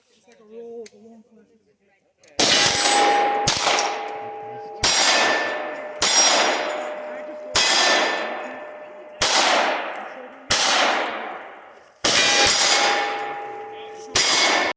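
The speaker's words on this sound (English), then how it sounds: "Let's shoot the middle target." Gunshots hitting steel shooting targets outdoors, eight loud, sharp cracks, each followed by a ringing metallic clang that decays before the next, spaced about a second or more apart, with brief talk before the first shot.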